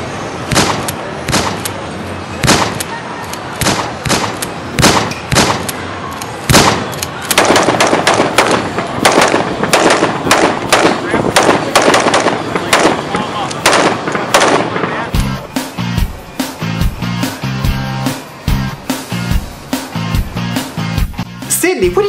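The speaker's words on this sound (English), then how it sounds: "let's take our gang over to the local shooting range and get some shooting practice" Gunfire at a local shooting range: a long, irregular run of loud, sharp shots, some in quick bursts, sounding close and continuing for the whole stretch.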